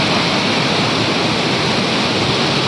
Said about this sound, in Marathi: हे बघा हा साईडला धबधबा आहे आपला मोठा.